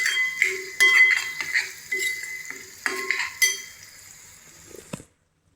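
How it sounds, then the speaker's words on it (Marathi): Coriander powder and Khandeshi black masala are stirred in a pan, with a spoon scraping and clinking in short irregular strokes over a faint sizzle, then stopping. "नंतर धने पावडर आणि आपला खानदेशी काळा मसाला हा टाकूया. त्याला चांगला परतवून घेऊया."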